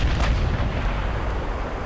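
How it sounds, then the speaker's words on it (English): Heavy 16-inch naval shells slam into a battleship in Ultimate Admiral: Dreadnoughts, a dense, continuous rumbling roar of impacts and fire with a sharper burst near the start, loud and unbroken with no talk. "being hit by 16-inch shells"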